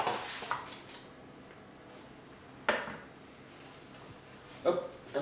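A small mixing bowl is taken out and set down in a home kitchen during tartlet baking, making three sharp clatters spaced a couple of seconds apart with quiet room tone between.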